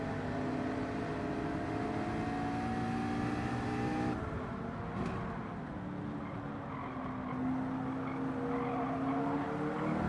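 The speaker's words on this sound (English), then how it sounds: "Evo, I hear his car to the outside." Race car engines in Gran Turismo 7 during the Rolex 24 at Daytona, a steady loud drone that shifts pitch as one car's engine note falls away and another rises, with no talking.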